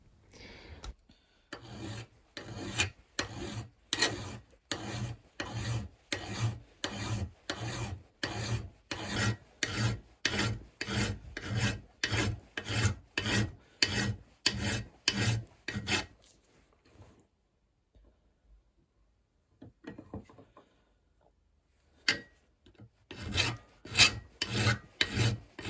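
A hand file rasps back and forth across a heater fan part clamped in a vise, making rhythmic, evenly spaced scraping strokes that stop for a pause, then resume briefly.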